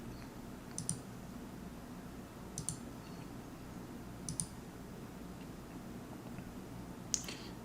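A mechanical computer keyboard gives a few sparse, faint clicks, about four short bursts spread over several seconds above a low steady room hum.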